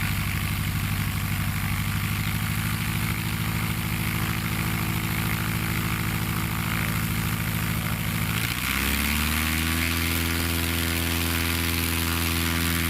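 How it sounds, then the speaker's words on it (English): An American Legend AL-18 Legend, a modernized Super Cub, runs its propeller engine at a steady loud drone at a STOL competition, then the pitch shifts upward partway through as power is pushed to full throttle for takeoff. "Giving it full throttle, tail in the sky, and he's off."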